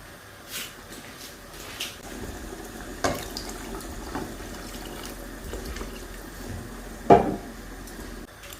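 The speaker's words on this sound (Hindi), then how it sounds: "और पानी जो है गर्म डालना है, ठंडा पानी नहीं डालना, गर्म पानी डालना है।" Hot water is poured into a pot of chickpeas and potatoes cooking in Pakistani style, a steady watery trickle with a couple of louder splashes and clinks.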